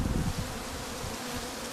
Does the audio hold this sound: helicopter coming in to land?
no